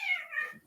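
Binks, a pet house cat, lets out a single drawn-out meow, close and clear, with no talking over it.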